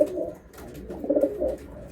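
Andhra pigeons at a sale cooing softly nearby, a couple of low rolling coos over about two seconds with no talk.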